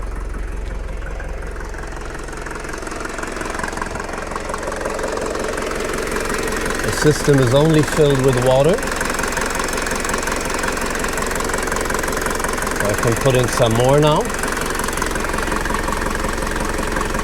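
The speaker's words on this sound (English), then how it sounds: "The car is only idling for, I'd say, less than 5 minutes" A Mercedes W201 190D diesel engine idles during a cooling system flush, with a steady low knocking clatter running throughout while someone speaks over it twice.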